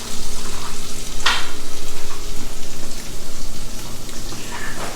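A pound of diced bacon fries in a pot outdoors, a steady loud crackling sizzle with dense popping throughout, one brief sharp clink near the start, no talking.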